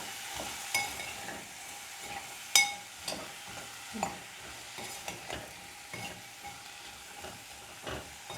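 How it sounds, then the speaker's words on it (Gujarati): Green beans being stirred in a frying pan over low heat: a faint, soft sizzle under repeated scraping and tapping of a spoon against the pan, with a sharper clink near the middle. "બધા બીન્સ નખાઈ ગયા અને મસ્ત રીતે મિક્સ કરી દઈએ"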